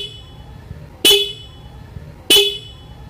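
Two short, loud honks from a single adjusted old vehicle horn sound about a second apart, bright and tonal, over quiet background noise.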